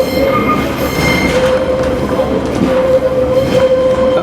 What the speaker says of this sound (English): Prudhoe, which is the second stop on this train to Carlisle.